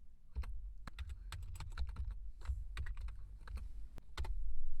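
Fingers type on a computer keyboard in a quick, uneven run of close, crisp key clicks, with a low background rumble rising toward the end and no talk.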